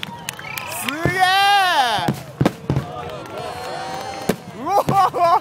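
Fireworks burst at the Lake Suwa fireworks festival in 2011, sharp booming explosions echoing across the lake, spaced irregularly with rising whistles between them, while excited spectators shout and exclaim.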